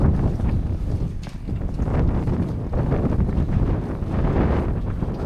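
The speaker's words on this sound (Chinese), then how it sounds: "一路上发动机的轰鸣声盖过了风声" A rubber speedboat's engine roars while strong wind buffets the microphone on rough open water in the Faroe Islands, a loud continuous turbulent rumble with gusty surges and no speech.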